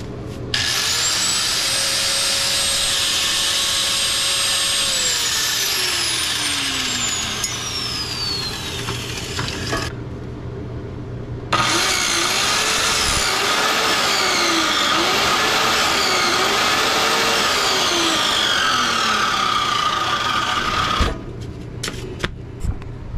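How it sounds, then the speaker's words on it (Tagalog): An electric angle grinder powered from a Thunderbox Apex Pro 3000-watt LFP power station whines loudly and steadily at close range, spinning down and back up with a brief gap, grinding against material in scratchy bursts, with no talking. "Try natin sa grinder."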